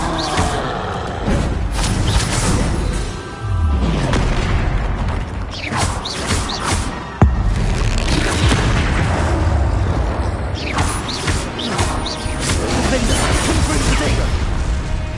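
Bombarda explosion spells going off repeatedly in Hogwarts Legacy, heavy booming blasts and crashes layered densely over continuous battle noise, loud and close, with a voice shouting spell names over them.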